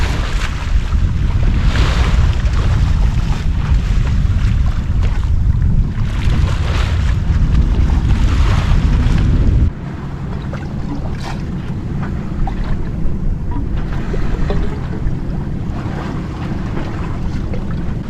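A sailboat with a triple-reefed mainsail beats through a 22 to 29 knot wind, steady loud roar of wind buffeting and water rushing along the hull throughout, easing slightly partway but never pausing, with no voices.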